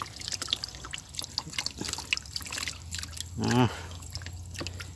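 Water trickles and dribbles softly into a container for soaking plant cuttings, with small splashes and a brief louder gurgling pour near the end, faint background noise throughout.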